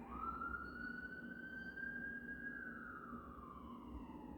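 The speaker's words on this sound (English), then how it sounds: "Y'all hear that siren?" A distant emergency siren wails in one long rising and falling sweep over a low rumble of traffic.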